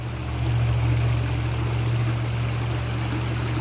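Water running steadily through a gold prospecting sluice outdoors, a constant loud rushing wash with a low hum underneath, unbroken and without talk.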